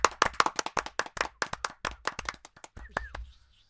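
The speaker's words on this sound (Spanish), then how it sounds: "Un aplauso, por favor, aquí en la cabina" A crowd of hands claps in quick, uneven bursts nearby, a brisk round of applause for a guest in a podcast studio booth that thins out and stops after a few seconds.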